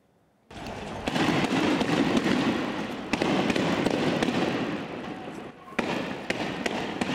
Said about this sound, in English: They're responding in turn with stun grenades.